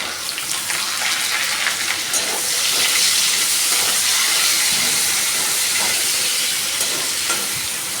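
A steady sizzling hiss of carrots frying in a hot pan with garlic, close and continuous, with faint clinks now and then.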